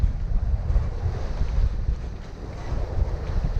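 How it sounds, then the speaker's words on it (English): Steady wind buffets a Bavaria 41 sailboat at sea, a continuous low rumbling rush with gusty swells and microphone wind noise, fairly loud and close, with no speech. "So the winds are still a bit calmer."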